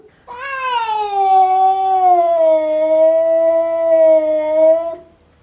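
A long, loud, steady howl from a close animal, a sustained wavering cry that begins abruptly and holds for several seconds before cutting off, with no talk over it.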